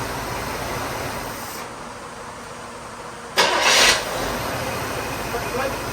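A barn-find Chevelle engine, being tuned, shuts down and then restarts with a short, loud cranking burst and catch before settling into a steady idle, heard up close over constant engine and background noise.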